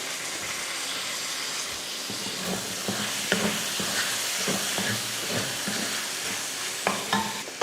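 Lentils and two tomatoes are sautéed in a pan, a steady close sizzle and hiss overlaid with irregular scraping stir strokes from a utensil, continuous throughout without talk.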